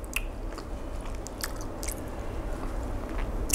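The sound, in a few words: chewing takoyaki with fish flakes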